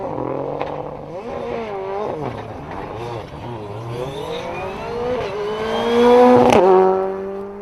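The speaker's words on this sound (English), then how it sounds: "he has stalled. Car started gently." A rally car on the Circuit of Ireland Rally restarts after stalling and pulls away, its mid-pitched engine revving up and down through gear changes, close and loud, swelling near the end as it accelerates off.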